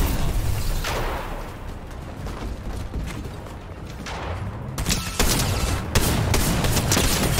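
Repeated shotgun blasts and other gunfire bursts in a Fortnite match, loud and close, spaced irregularly over several seconds amid game action noise.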